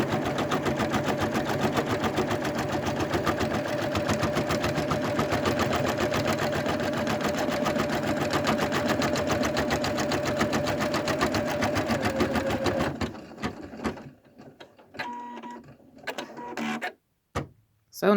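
An embroidery machine stitching a keychain in a hoop, a fast steady mechanical chatter of needle strokes that runs continuously for most of the time, then stops and gives way to quieter handling clicks and rustles.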